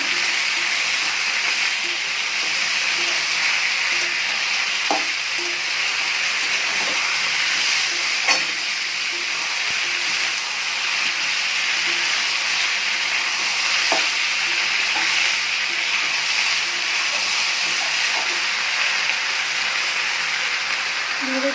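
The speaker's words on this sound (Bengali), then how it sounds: "এবার দিয়ে দিচ্ছি বেঁধে রাখা মশলাটা মশলাটা আমি এবার কষে নেব" A spice paste is fried with already-browned onions in oil for a red lentil dal, giving a continuous, fairly loud sizzle with occasional stirring clinks and scrapes.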